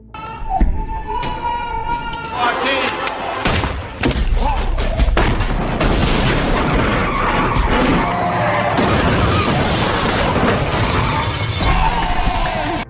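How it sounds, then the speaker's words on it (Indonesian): Loud, chaotic film gunfight with sharp bangs, crashes and shattering impacts over a dense roar, continuous and intense throughout. "John sempat beradu tembakan dengan adik Lucas."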